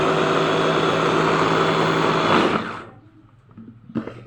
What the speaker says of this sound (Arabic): وبعد كده نشغل الكبة